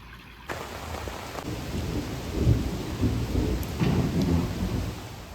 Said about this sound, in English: it looks like it's about to start thundering